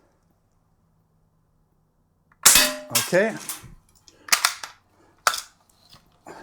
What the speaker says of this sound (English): And let's get the first shot out of the way.